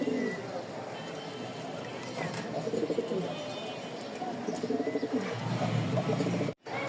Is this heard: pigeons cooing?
yes